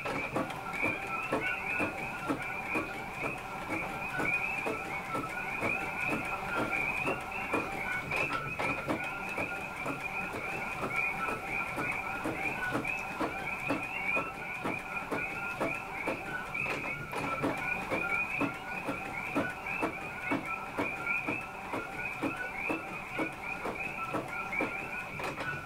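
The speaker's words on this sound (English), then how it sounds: "you know that printer prints out real slow. So this speed is the high quality printing." An Epson ET-8550 inkjet printer runs a slow high-quality print job, giving a steady, continuous mechanical whir with faint rhythmic print-head passes, close by and with no talking.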